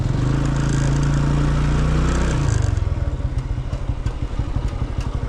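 A TVS Apache RTR 2V motorcycle engine holds a loud steady drone at first, then breaks into a rapid, pulsing throttle rhythm as the bike is pulled up into a wheelie, close and alone with no talk.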